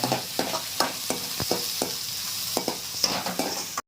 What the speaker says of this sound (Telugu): బాగా ఫ్రై చేసుకోవాలి. మంచిగా ఫ్రై చేసుకోవాలా?